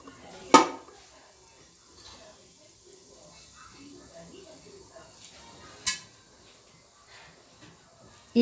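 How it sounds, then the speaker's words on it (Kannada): Popcorn kernels in a covered pan over a medium flame start popping with two sharp, isolated pops several seconds apart over a quiet background, with a voice speaking softly. "ಇವಾಗ ನೋಡಿ ಸ್ಟಾರ್ಟ್ ಆಗ್ತಾ ಇದೆ ಸಿಡಿಯೋದಕ್ಕೆ ಅದು"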